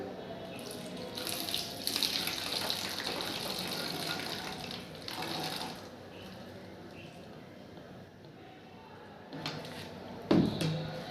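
Water pours into a bottle in a steady gushing stream, pausing briefly, then resuming more softly before a short clatter near the end.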